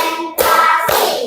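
Two sharp hand claps, about half a second apart, ring out in a counted group clapping routine against a faint tonal background.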